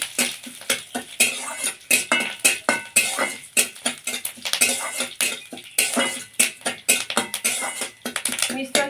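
Curry leaves, red mustard and a spoonful of sugar frying in a pan, stirred briskly: a steady run of quick metallic scrapes and clinks from the spoon over a constant hiss, close and busy, with no voices.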